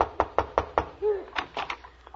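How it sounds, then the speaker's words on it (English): Four sharp, evenly spaced knocks strike a door, then a short vocal sound cuts in, followed by a looser flurry of quicker knocks, in an old comedy film scene. "Go ahead, knock on the door."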